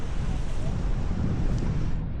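Wind gusts across the microphone on a UK beach at Walton during a fishing competition, a steady low roaring rumble with a broadband hiss, loud and close, no voices.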